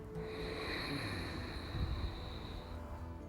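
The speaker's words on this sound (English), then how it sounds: "It's just short of a snore, and it sounds like this." A slow, hissing ujjayi yoga breath drawn through a constricted throat, soft and close, with a faint snore-like rasp.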